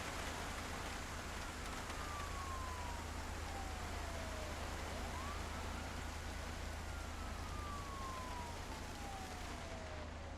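A vehicle siren in a video game wails in long, slow falling sweeps, repeating twice over a constant hissing, rain-like background noise, with no talking.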